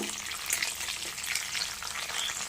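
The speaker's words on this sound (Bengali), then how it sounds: "কারি পাতাটাকে ফোড়নে দিয়েছি" Curry leaves crackling in hot oil as a tempering for flattened-rice poha, a dense bright spitting sizzle heard up close and fairly loud throughout, with no talk.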